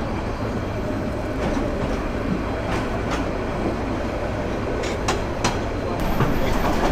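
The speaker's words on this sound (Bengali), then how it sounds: "ট্রেন কিন্তু বেশ কার্ভ নিয়ে যাচ্ছে।" A Nazirhat local train rolls around a curve, heard from inside a coach as a loud, continuous rumble with rattling, clickety-clack and a few sharp wheel squeals and clanks near the end.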